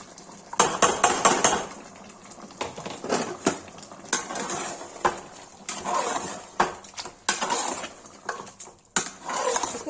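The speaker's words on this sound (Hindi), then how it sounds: "गाइस अब टमाटर डाल देंगे।" Tomatoes going into a pan for Kashmiri mutton, with a spoon clattering and scraping against the metal in irregular bursts, close and fairly loud, over a faint background.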